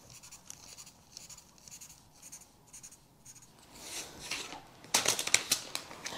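Scissors cut through fabric for a sweatshirt with a series of quiet, close snipping and rubbing strokes, and the cuts turn louder and denser near the end.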